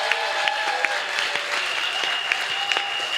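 A church congregation applauds during a morning service, a steady wash of many hands clapping together, fairly close and continuous, with faint sustained tones ringing underneath.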